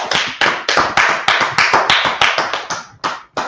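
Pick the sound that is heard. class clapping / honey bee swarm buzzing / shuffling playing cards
class clapping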